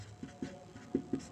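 A pen writes on paper during a maths lesson, making a few soft taps and scratches close by at an uneven pace. The sound is quiet and no one speaks.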